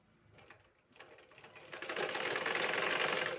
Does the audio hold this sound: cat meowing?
no